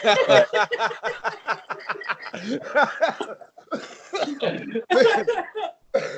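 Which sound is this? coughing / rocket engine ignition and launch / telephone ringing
coughing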